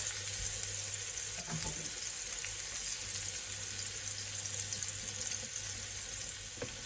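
Steak and butter sizzle steadily in a frying pan, a constant loud hiss and crackle with a few faint clinks, no voices.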